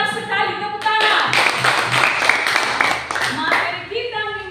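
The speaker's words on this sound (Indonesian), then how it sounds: "Benar sekali, tepuk tangan" A class of schoolchildren claps together in a sustained burst of applause lasting a couple of seconds, with voices speaking just before and after.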